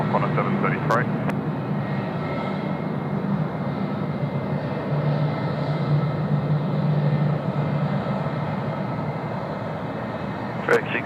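A Korean Air Boeing 787-10 takes off from Sydney Airport, its steady engine roar filling the scene at a distance while air traffic radio talk plays over it.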